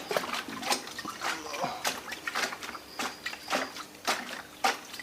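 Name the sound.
shaking a liquid organic pesticide mixture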